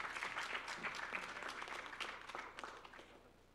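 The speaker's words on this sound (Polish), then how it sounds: "Brawa, brawa, proszę Państwa." Faint, distant audience applause for a pianist at a song contest festival, with scattered individual claps standing out before the clapping gradually thins.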